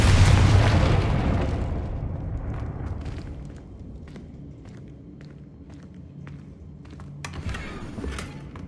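A Confringo spell explodes in Hogwarts Legacy, a loud booming blast that decays into a rumbling tail, followed by footsteps and a few light clicks.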